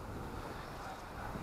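Wind rushes steadily over the microphone at an outdoor allotment, a faint, even, low rumble with a constant hiss and no distinct gusts.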